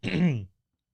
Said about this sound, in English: if you can get you to quit clearing your throat, that'd be cool